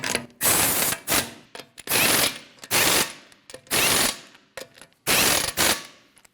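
A hand ratchet snugs the lug nuts onto a 2012-2016 Honda CR-V 2.4L wheel, with loud, close bursts of rapid clicking repeating in a steady on-off rhythm and brief pauses between pulls.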